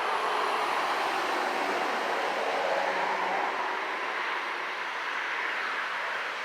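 A truck rolls past on a nearby road, a steady broad rumble and hiss that swells and lingers for several seconds with no one talking.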